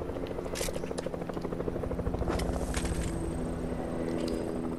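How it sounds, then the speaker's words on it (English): A video game helicopter's rotor chops in a fast, steady thump under a constant engine hum, with a few brief sharp bursts of higher noise over it. "Now they have a helicopter too."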